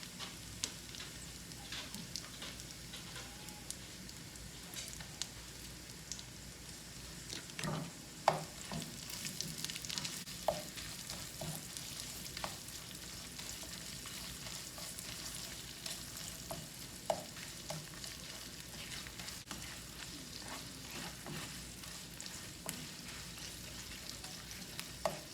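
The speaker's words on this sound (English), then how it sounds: "The onion's been cooking for about 3 minutes, so I'm gonna go ahead and add in my chorizo." Chorizo and onions sizzling in a pan, a steady close frying hiss with occasional scrapes and taps of a utensil stirring and breaking up the meat, continuing without speech for about 25 seconds.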